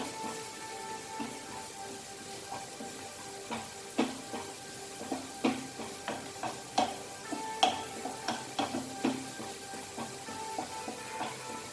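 Pointed gourd and onions fry in a pan over a high flame, a continuous crackling sizzle broken by repeated scraping stir strokes, with no voices.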